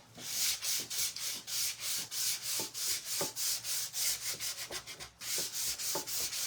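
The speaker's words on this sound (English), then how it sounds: "I am just going to sand this chalk paint" Hand sanding of chalk paint with fine grit sandpaper, a rhythmic series of close, scratchy back-and-forth strokes, about three per second, each a rough swelling rasp, with a brief pause near the end.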